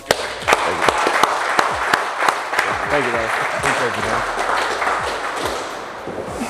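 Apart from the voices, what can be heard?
audience applause for a speaker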